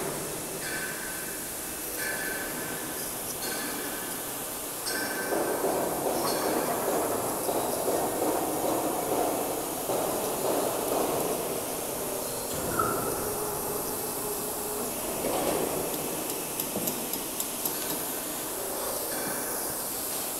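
Roll forming machine running in a workshop, a continuous dense mechanical rumble with hiss, metallic squeals and faint clicking, steady and moderately loud throughout.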